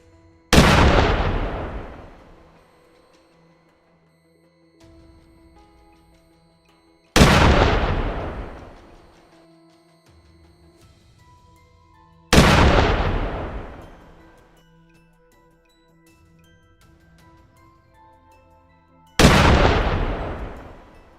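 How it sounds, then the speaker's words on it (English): Four heavy gunshot blasts during a wild boar hunt in a valley, each a sharp loud crack with a long echoing decay, spaced several seconds apart with quiet outdoor ambience between. "A single shot echoed through the valley."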